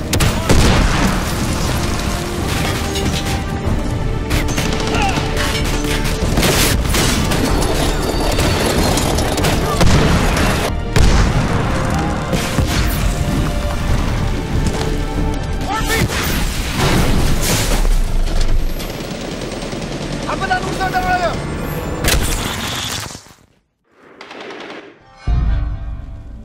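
Heavy gunfire and explosions in the Xbox 360 shooter Medal of Honor: Warfighter, with continuous loud bursts of automatic fire and booming blasts over combat sounds, fading out abruptly near the end.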